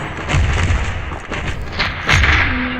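A grenade explodes in the mobile shooter Standoff 2, giving a loud, booming, rumbling blast with several heavy thumps rolling together over a few seconds, close and dominant, with no speech.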